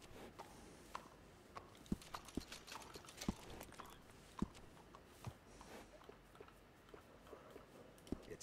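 Horse hooves from Red Dead Redemption 2 clip-clopping at a slow, uneven walking pace over a steady background hiss, fairly quiet and without voices; the horse is skinny.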